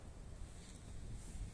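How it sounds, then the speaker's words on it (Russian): Gusty northern wind outdoors on a street, a faint low rumbling buffet against the microphone that swells slightly, with no talk. "порывистый очень ветер"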